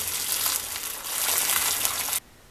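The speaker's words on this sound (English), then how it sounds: "we can just do that by bathing them in boiling water" Steady rushing, bubbling boiling water for sterilizing cider bottles fills the clip loudly for about two seconds, then cuts off abruptly into quiet.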